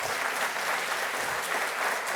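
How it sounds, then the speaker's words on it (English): Symposium attendees give students a round of applause, a steady, even wash of crowd clapping, moderately distant and unbroken from start to finish. "will you give these students a round of applause over here?"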